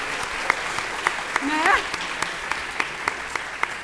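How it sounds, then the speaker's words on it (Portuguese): Scattered audience clapping at a TV series editing session, sparse and uneven with distinct single claps spread over a few seconds. A brief spoken word and a short vocal sound rise midway through. "Pode aplaudir, gente."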